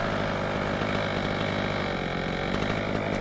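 A petrol brushcutter with a blade dulled from hitting a rock cuts through brush, its two-stroke engine whining loud and close at steady high revs, with no talk.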